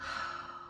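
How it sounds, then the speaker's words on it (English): A single deep breath is drawn in close to the microphone, a short, soft airy inhale heard alone and fairly quiet. "So I want you to take a big deep breath."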